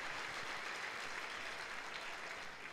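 Church congregation applauding during a Sunday worship service, a steady dense wash of clapping throughout with no voices on top.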